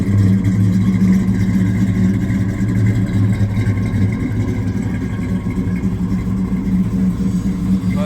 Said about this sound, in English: Car sounds good. It's not too loud, but it sounds really good.